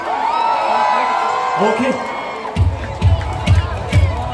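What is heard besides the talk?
cheering squad crowd shouting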